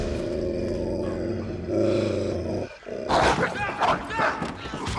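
Low, rumbling growls from Rottweiler dogs on a film set, steady and close for nearly three seconds before giving way to a louder, harsher stretch of snarling and barking sounds.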